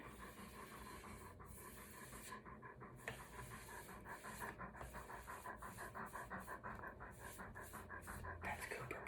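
A two-year-old yellow Labrador named Cooper pants close by, quick steady huffs of breath running the whole time with soft rubbing and handling noises mixed in.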